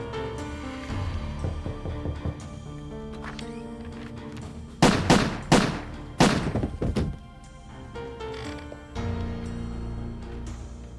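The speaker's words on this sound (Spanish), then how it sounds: "Los disparos fueron muy sonoros" A cluster of loud gunshots goes off at the front door of a house, with several sharp booming cracks in quick succession followed by two more, set against quieter indoor background noise.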